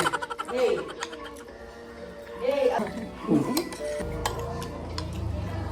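Plates and cutlery clink and clatter in a few bursts while dishes are washed on a farm, with voices talking throughout.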